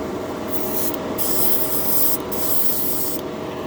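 Harbor Freight airbrush spraying lacquer from its compressor combo: a steady, close hiss of air running continuously, with a few brief breaks where the spray cuts out.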